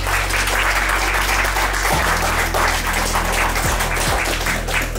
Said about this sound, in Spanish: Voto de aplauso, señora.